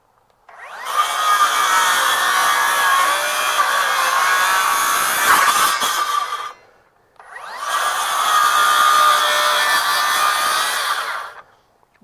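A RIDGID R8656 18V sub-compact brushless 6-1/2 inch cordless circular saw whines loudly through two long cuts, each lasting several seconds with a brief pause between them. No one speaks.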